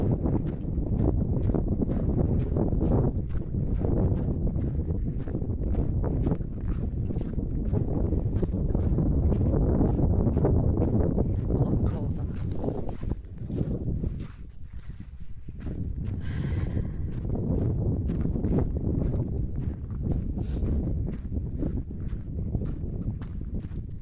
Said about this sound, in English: The wind is in fact a little bit, horrible, because the wind makes it a lot